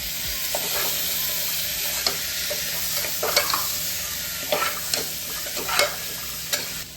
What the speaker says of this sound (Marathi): तीन ते चार मिनटे आपण मसाल्यामध्ये भाज्या व्यवस्थित परतवून घेतलेल्या आहेत